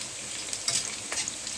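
Sliced onions toast in a hot frying pan, a brief close sizzle with a couple of sharper crackling bursts as they are moved about.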